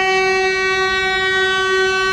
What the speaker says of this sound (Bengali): দুরন্ত এক্সপ্রেস পাস করছে এখন